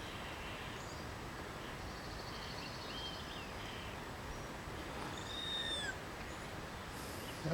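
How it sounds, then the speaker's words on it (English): A bird calling outdoors, several short chirping whistles rising above steady background noise, faint and somewhat distant, with no voices. "That was a neat little bird call."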